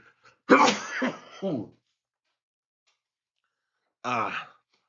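A person lets out a sharp sneeze followed by a quick sniffle, then a second brief burst after a pause of silence.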